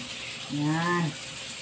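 Water is poured into a kitchen grease trap treated with colored sunrock, giving a brief gurgling, splashing burst that swells and fades over a steady background hiss.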